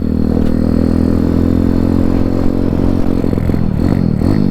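A Honda C50 motorcycle engine drones loudly and steadily while riding, then stumbles and bogs with wavering, faltering revs toward the end.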